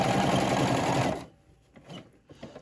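A sewing machine stitches children's shorts in a steady, loud, continuous whir for just over a second, then stops abruptly, leaving only faint handling clicks and rustles.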